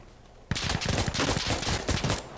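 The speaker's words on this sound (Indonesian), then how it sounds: "Single shot, single shot." Gunfire in a first-person shooter video game: a rapid run of sharp, loud shots right up close, starting abruptly after a quiet moment and going on without a break.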